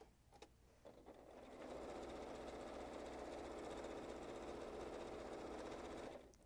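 A sewing machine quilting lines across placemat fabric, running in a steady fast drone from about a second and a half in until it stops near the end, fairly quiet and alone.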